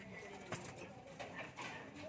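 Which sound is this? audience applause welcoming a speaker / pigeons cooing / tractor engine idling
pigeons cooing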